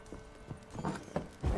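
Hooves of the horse Roach clip-clop in The Witcher 3 video game, a close, steady walking rhythm of hollow thuds over a soft ambient background.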